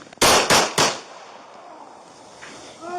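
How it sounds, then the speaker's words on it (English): Three loud, sharp gunshots fired in quick succession by a police officer during a bodycam-recorded confrontation, followed by a quieter tail and the start of a shouted voice. "394 Central, shots fired."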